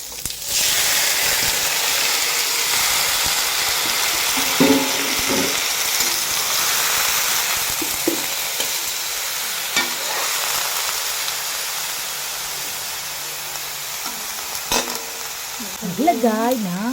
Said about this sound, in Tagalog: Pag nagisa na, isunod ang palakang bukid.